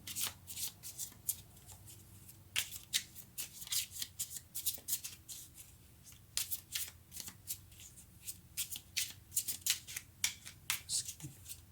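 Tarot cards being shuffled and drawn by hand, a run of quick papery riffles and flicks in irregular bursts, close and fairly quiet, with no voices.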